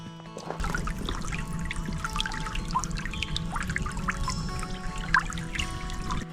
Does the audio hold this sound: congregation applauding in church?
no